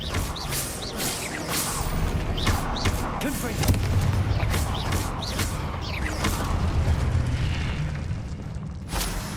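A Confringo fire spell in Hogwarts Legacy produces repeated booming blasts and sharp crackling bursts over rumbling game noise, with several impacts spread through the scene.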